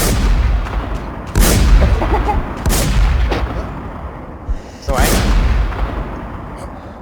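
Video game gunfire: several loud, sharp shots and booms at irregular intervals, each with a short rumbling tail, while voices talk between and over the shots.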